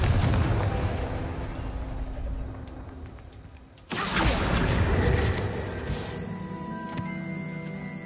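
A Confringo fire spell in Hogwarts Legacy, a low rumbling whoosh that gives way to a sudden loud explosive blast, then a crackling, ringing tail that slowly fades.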